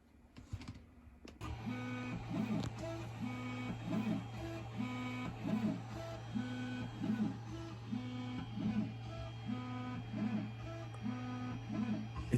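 An Artillery Sidewinder X3 Pro 3D printer runs nearby, its stepper motors whirring in quick repeating rhythmic patterns over a steady hum, with no talking.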